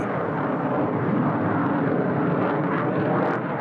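An F-16 fighter jet at a Biggin Hill air show display gives off a loud, steady roar that fills the whole stretch with no pauses.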